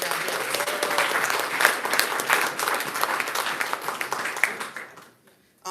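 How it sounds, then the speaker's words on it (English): A crowd claps loudly in sustained applause for graduates with a few whoops, fading out abruptly near the end. "Can we get a round of applause for all of our graduates?"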